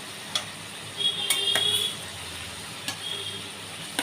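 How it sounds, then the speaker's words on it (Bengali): Parshe fish go into a bubbling oil and chili spice sauce, giving a steady soft sizzle close by, with a few light utensil clicks against the pan. "এটা তেল ঝালের মশলাটা আমি এবারে পার্শে মাছগুলো দিয়ে দিচ্ছি এর মধ্যে।"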